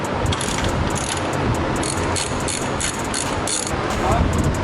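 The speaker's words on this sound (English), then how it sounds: "let's see if we can get ratchets. And you can, you can zip them off." Ratchet wrench zipping bolts off the subframe of an E-chassis BMW (E6X, E8X, E9X), a steady stream of rapid pawl clicks running loud and close throughout, with voices talking alongside.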